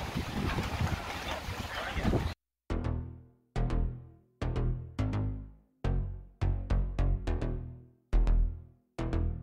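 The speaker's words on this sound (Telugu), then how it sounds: "చాలా విండీగా ఉంది ఇక్కడ. అమ్మో, you can hear this sound అనుకుంటా." Strong gusts of wind at Oia, Santorini, in stormy weather buffet the microphone in loud rumbling bursts: first a long roar, then a series of sharp repeated blasts separated by brief silences.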